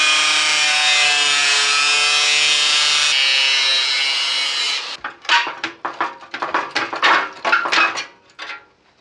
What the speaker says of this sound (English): So with this top multi-skin panel looking so rough, I think the only alternative is to cut it out.